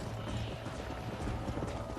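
Hooves clip-clopping from a galloping horse in the Red Dead Redemption video game, a brief dense run of hoofbeats under a steady wash of game ambience.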